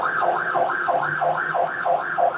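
An ambulance siren on a Hong Kong street, a wailing two-tone rise-and-fall repeating at a quick, even rhythm, moderately distant with light traffic noise beneath.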